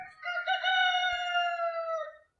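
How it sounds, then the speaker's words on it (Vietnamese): A rooster crows at dawn in a poor village, one long clear cock-a-doodle-doo close by with a rising start and a drawn-out tail, then quiet. "Tiếng gà gáy báo hiệu một ngày mới nữa lại về trên cái xóm nghèo này"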